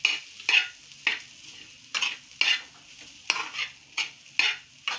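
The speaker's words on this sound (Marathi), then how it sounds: "हे अशा प्रकारे व्यवस्थित ह्याला परतून घ्यायचं" A paratha filling being sautéed in a pan, with rhythmic spatula scrapes about every half second over a light sizzle, close and clear with no speech.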